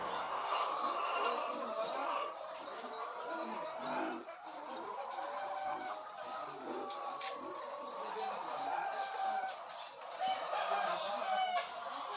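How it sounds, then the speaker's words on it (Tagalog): Layer hens on a poultry farm cluck and murmur steadily at a soft, moderate distance, with scattered overlapping calls and faint background farm noise throughout. "Sa area na ito, makikita ang layer chicken or ang mga manok na nangingitlog."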